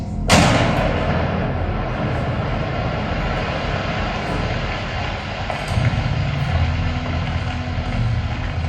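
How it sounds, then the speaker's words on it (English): A sudden loud blast booms out from a routine blast at a limestone quarry, then a heavy, steady rumble rolls on and fills the air for several seconds. "An explosion rings out, a routine blast at the Hardtooth quarry"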